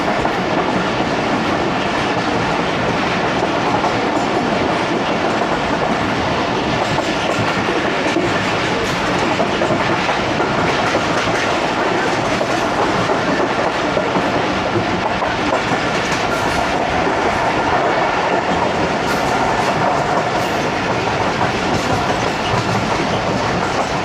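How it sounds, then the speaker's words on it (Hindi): Awam Express passenger train running through a station without stopping, a loud, steady rumble and rhythmic clickety-clack of wheels over rail joints lasting throughout, close and continuous with no talk. "चकलाला पर स्टॉप नहीं है अवाम एक्सप्रेस का,"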